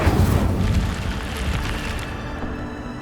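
An Incendio fire spell cast in Hogwarts Legacy bursts out as a loud, low rumbling whoosh of flame that fades into a steady crackling roar, with no talking over it.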